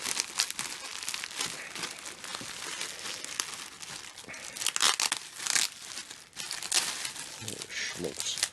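Packing tape being torn and plastic crinkling while a military surplus package holding desert MARPAT camo pants is opened, with repeated close ripping and rustling bursts and someone talking at times.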